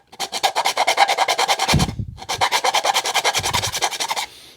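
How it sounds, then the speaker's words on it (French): A hand file rasps a tree-climbing helmet's ear protector in fast, even back-and-forth strokes, two loud close runs separated by a brief pause, with no talking. "on va venir mettre un petit coup de lime"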